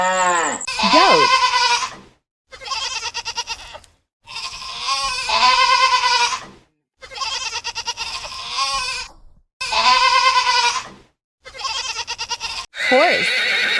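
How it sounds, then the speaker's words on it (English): A goat bleats loudly and repeatedly in wavering, nasal cries of a second or two each, separated by short silences, close to the listener with no talk. "Goat."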